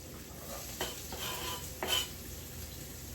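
Onions sizzle in a frying pan alongside potatoes and peppers, a soft steady frying hiss broken by two scraping stirs of a utensil against the pan.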